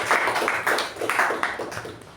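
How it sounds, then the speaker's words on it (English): Toastmasters meeting audience claps in a short, fairly close burst of applause, individual hand claps audible in a quick uneven rhythm for about two seconds. "So huge round of applause for DTM AK Prabhakara and Toastmasters Sharanye"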